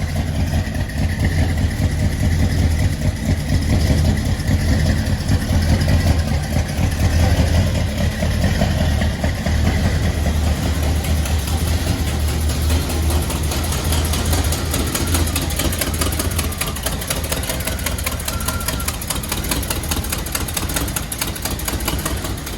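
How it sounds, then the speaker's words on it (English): A 1981 Oldsmobile Delta 88 engine idles loudly and steadily, its low rumble joined by a rapid ticking, puffing sound from a massive exhaust leak at the header, with no talking. "Massive exhaust leak, that's because of the header"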